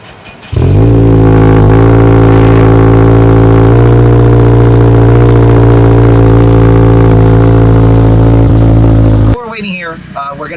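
A 600 HP Subaru WRX tuned with meth injection cranks and fires, then settles into a loud, close, steady rumbling idle for several seconds before cutting off abruptly, followed by a brief voice.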